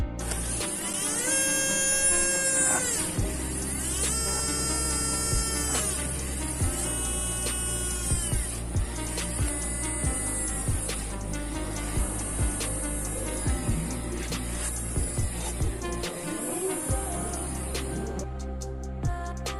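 A small electric trimmer motor, powered by a 5V charger at reduced speed, hums steadily with a buzzing, mechanical tone, running continuously and close by, with slight shifts in pitch.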